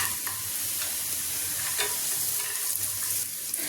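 Shallots and cashew nuts fry in a pan, giving a low, continuous sizzle broken by soft stirring scrapes.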